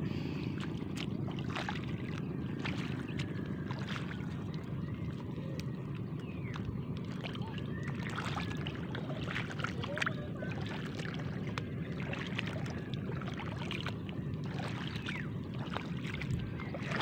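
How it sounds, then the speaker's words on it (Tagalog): A boat comes in across open water, heard as a faint, steady low motor hum mixed with wind and water noise that runs unbroken throughout. "May dumating pang bangka doon sa kabila."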